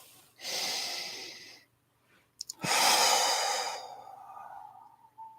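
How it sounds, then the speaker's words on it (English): Two slow, deep breaths taken during a relaxation exercise, each a long airy inhale or exhale up close, with a short quiet gap and a faint catch between them. "just take a couple of breaths"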